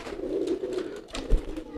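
A pigeon coos softly and close by in a low, continuous throaty murmur that swells slightly near the end.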